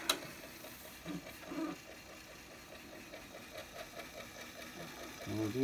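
A Hitachi TRK-W555 cassette deck's tape mechanism runs with a steady, quiet rhythmic mechanical whir and faint ticking, close up, with a few soft handling clicks and a louder knock at the end.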